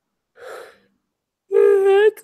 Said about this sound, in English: I got the yawn out